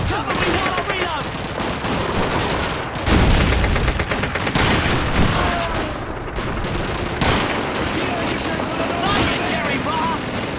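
Rapid gunfire in Call of Duty 2, with repeated rifle and machine gun bursts close and loud, a heavier blast near three seconds, and soldiers' voices shouting over the shooting.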